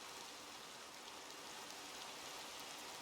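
Continuous Minecraft rainfall, a full unbroken hiss of drops on surfaces at an even level from start to end, with no one speaking.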